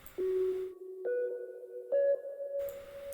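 A default synth preset in FL Studio with Fruity Convolver reverb plays a few sustained, clean tones that step upward in pitch, each note ringing on with a soft reverberant tail, alone and fairly quiet.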